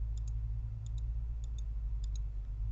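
Computer mouse clicked in quick pairs while an image is toggled in Photoshop CS6, four double clicks spaced evenly over a steady low hum, close and fairly soft, with no talking.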